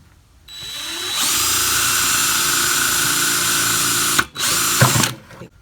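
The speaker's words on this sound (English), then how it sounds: "I'm drilling these holes on the sides in case, well, for additional drainage" A power drill whirs steadily at close range for several seconds, drilling drainage holes in the side of a 5-gallon plastic bucket, cutting out briefly near the end before revving again, then stopping.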